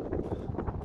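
Wind buffets the microphone outdoors beside a truck parking area in France, a brief low rumbling gusty roar with uneven pulses.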